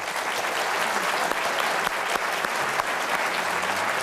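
A studio audience at the 1990 Computer Bowl II, an East versus West Coast tech quiz show, claps in steady, dense applause that holds evenly throughout.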